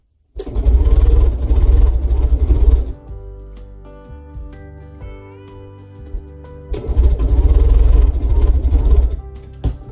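Sewing machine running fast in two loud stretches while stitching quilt pieces together, its motor rumbling low, with a steadier quieter hum between the bursts.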